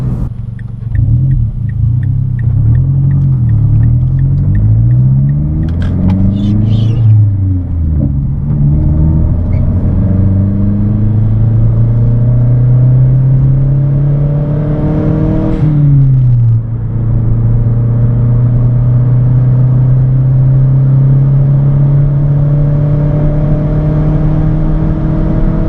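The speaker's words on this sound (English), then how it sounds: "I just love the sound of this car, especially with straight pipe catback or any sort of catback exhaust system." A Mazdaspeed 3 hatchback with a straight-pipe catback exhaust drones and rumbles loudly and close, rising through revs, dipping, then climbing again in a long steady pull.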